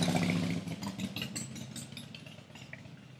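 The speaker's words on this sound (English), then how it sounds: "I'm gonna let this motorcycle pass" A motorcycle passing by in the morning, its engine rumble loud and close at first, then fading gradually as it moves away.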